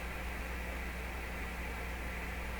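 Steady, even static hiss from a Hammarlund SP-600 radio receiver with modulation off fills the whole stretch, broadband and unchanging with a faint low hum beneath it, no voices.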